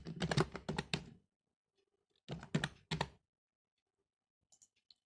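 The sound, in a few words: typing on a computer keyboard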